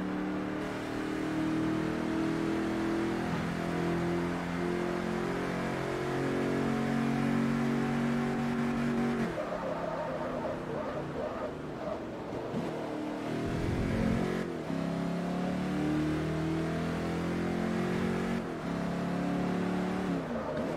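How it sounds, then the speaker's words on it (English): A Mercedes race car engine in Forza Motorsport 3, during a K&N 700HP Challenge, revs loud and steady with sustained harmonic drone, dipping briefly at two points as if shifting, then climbing again. "Such a cool sounding engine as well."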